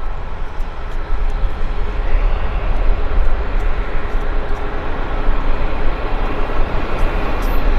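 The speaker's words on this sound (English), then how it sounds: "Okay, so that Q400 is up, and we have a WestJet turning on to the active." Airliners at Vancouver Airport, a Q400 having just taken off and a WestJet jet turning onto the active runway, give a steady, loud, broadband jet-engine roar with heavy low rumble lasting throughout, with no talking.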